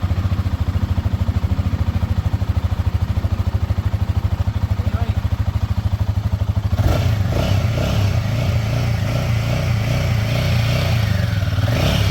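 A motorcycle engine idles with a rapid, steady putter, then revs up and roars louder as the bike rides off.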